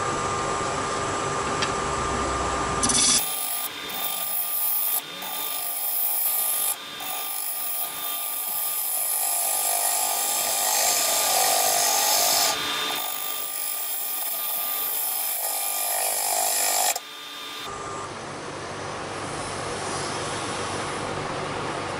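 A maple vessel spins on a wood lathe as the turning tool scrapes and catches around a knot and rotted spot, giving a steady, loud rasping hiss with rougher bursts through the middle.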